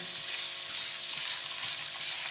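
Sliced onions fry gently in a pan over a low flame, giving an even, continuous sizzle that fills the whole moment without any voices.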